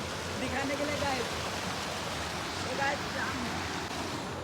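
The Garo Golli waterfall near Guwahati roars as a steady, dense wash of falling water with no breaks, and faint voices can be heard talking beneath it.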